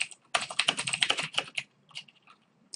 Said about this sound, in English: And John's typing out